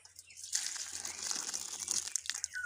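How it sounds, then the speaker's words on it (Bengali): Hot broth for a jute-leaf curry with potato and fish head is poured into a bowl, making a short, soft splashing gush that swells and tapers, quiet and close, with no voices. "এবারে ঝোলটা নামিয়ে নেব এই পাত্রে"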